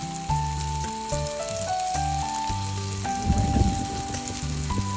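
An egg sizzles steadily in a hot pan at a campsite in Suan Phueng, Ratchaburi, Thailand, the crackle swelling briefly midway, with music playing throughout and no talking.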